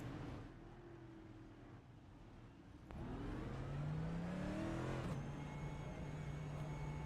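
Race cars accelerating out of the pit lane at Atlanta Motor Speedway, engine notes climbing steadily in pitch as several cars pull away, growing louder after a brief quieter stretch.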